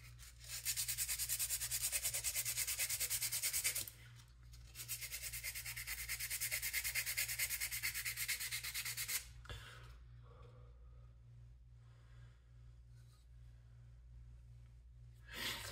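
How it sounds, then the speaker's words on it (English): A hunting slingshot is sanded by hand in two long, even rubbing strokes of several seconds each, close and fairly quiet, and then the sound drops to near silence. "All sanding footage, all the time."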